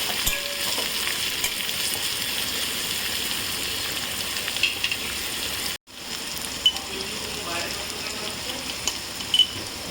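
Finely chopped onions frying in a pan after garlic, a continuous close crackling sizzle with a brief cutout midway and a few light stirring clicks, no one talking.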